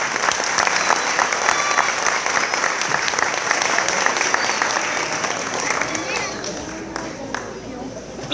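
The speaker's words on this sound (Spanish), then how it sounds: "Vamos a recibirlos con un fuerte aplauso." Loud, sustained audience applause fills a school theatre after a student play, dense clapping with cheering and crowd noise running steadily throughout without letup.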